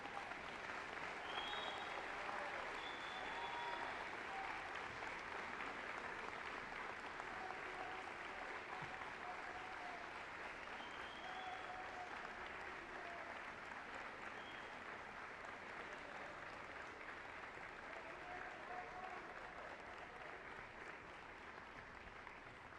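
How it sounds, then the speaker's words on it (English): Sustained applause from a large audience at a university education convocation, a dense, even clapping that carries on without a break from start to finish. "give those people a great round of applause"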